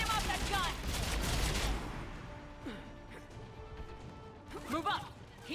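Heavy automatic fire from a mounted mountain gun in Mass Effect 3 as Geth enemies drop in, a loud dense burst of shots in the opening seconds, then sparser blasts under battle noise and shouted voices.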